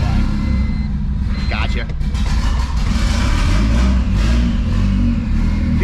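A modified Mazda Miata engine running loud and close, its low rumble steady with a rev swell, while someone speaks briefly over it.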